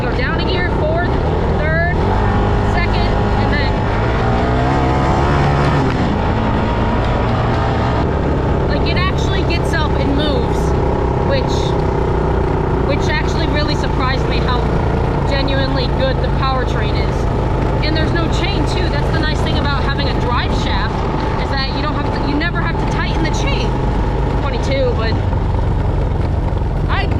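Honda Recon ATV engine droning steadily as it shifts down from fifth through lower gears, revs rising and changing pitch, loud and close throughout with someone talking over it.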